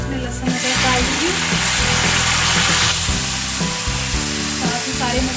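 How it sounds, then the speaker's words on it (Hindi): Garlic and ginger tossed into browned onions in a hot pan, sizzling and frying steadily and loudly, with some clatter as they are added. "प्याज ब्राउन हो गए हैं, इसमें लहसुन अदरक डाल दूंगी"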